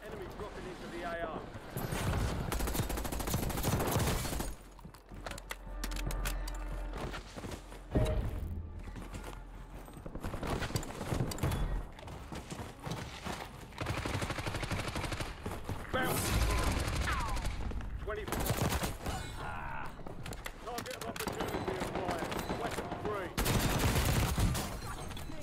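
Rapid bursts of gunfire in a Warzone match, with repeated volleys and automatic fire coming in waves across the whole stretch, mixed with footsteps and game noise while players talk over it.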